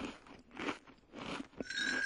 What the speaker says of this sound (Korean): 빨간 사과가 맛있어. 어물어물, 아삭아삭, 우적우적.